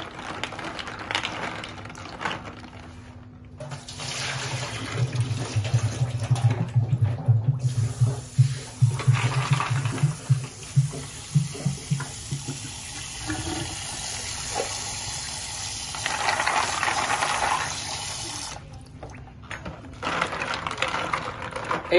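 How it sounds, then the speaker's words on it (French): Rice-field snails being rinsed and swirled in water, a sustained splashing, sloshing wash with bursts of gurgling that comes and goes over about twenty seconds, close up and fairly loud. "Donc il faut rincer plusieurs fois."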